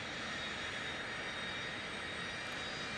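The right jet engine of an A-10 in a flight video game spools up, a steady, even turbine whine and roar that holds without a break, with no voices over it.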